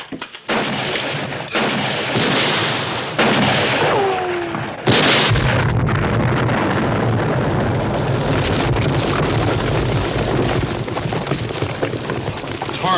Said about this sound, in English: Dynamite.